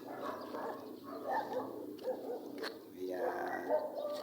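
Several dogs barking and yipping nearby in a neighbourhood, with sharp repeated barks and a whimper mixed under ongoing conversation from people close to the microphone.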